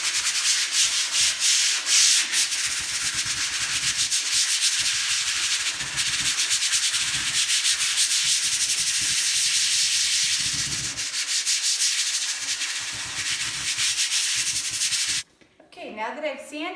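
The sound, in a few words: sanding melamine surface with sandpaper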